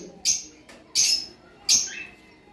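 Lovebirds and forpus parrots calling up close, three sharp shrill squawks spaced evenly apart with faint background sound between them.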